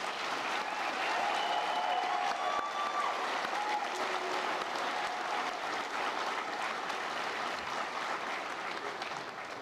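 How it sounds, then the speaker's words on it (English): A large audience applauds the graduates at the Mineral Area College 2021 commencement ceremony, a dense, steady wash of clapping that holds at an even level for about ten seconds, with no voices over it. "how about we end with a huge round of applause for today's graduates"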